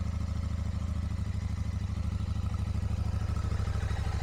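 A Royal Enfield Shotgun 650 parallel-twin engine with a Rhino Racing exhaust idles steadily and close up, a deep, even, throbbing rumble with a faint mechanical clatter over it and no speech.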